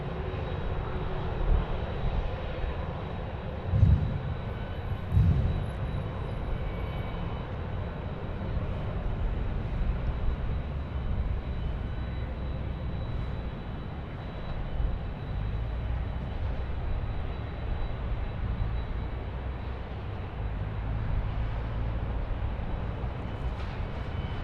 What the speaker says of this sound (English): United. Here we go, the 777.